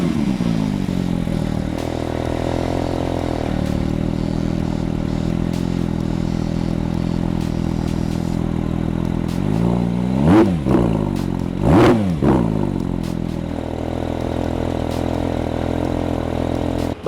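Porsche 911 GT3 engine running close by at a steady idle, with two sharp throttle blips that rise and fall, then settles back to a smooth idle.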